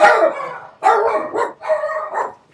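Several dogs bark loudly and close in three overlapping bursts, with no talk over them.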